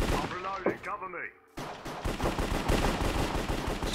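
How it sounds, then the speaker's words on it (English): Rapid bursts of gunfire in Minecraft crackle continuously, dense and loud, after a brief stretch of electronic game sounds and a short pause. "So much gunfire."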